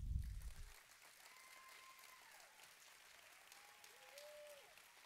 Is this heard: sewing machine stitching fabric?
no